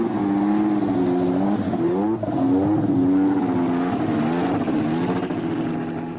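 A Formula One turbo race car engine runs close and loud, its pitch rising and falling in repeated revving swells with no one talking.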